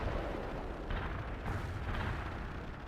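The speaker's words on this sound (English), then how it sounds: "We need artillery now." Artillery barrage in the World in Conflict wargame, a dense continuous rumble of overlapping explosions and booms with no clear gaps, loud and sustained throughout.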